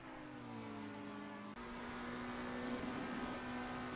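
A race car in a racing video game at Spa aquaplaning through a puddle, with a steady engine drone whose pitch shifts abruptly midway, then a sustained hissing spray as it runs through water.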